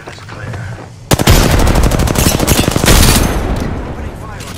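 Close, loud automatic gunfire in Apex Legends opens abruptly and keeps up as a rapid, rattling burst of shots, with heavy impacts and a brief swell before it tapers off.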